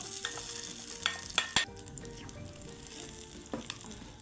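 Hot tempering sizzles loudly as it is poured over a ground Kerala-style chutney, a bright continuous crackle with a few sharp spatters and clinks near the start.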